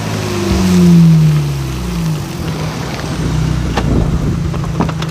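Loud car with a harsh, aggressive engine passing close by outdoors during Bastille Day festivities, a strong swell peaking early then settling into a rumbling roar.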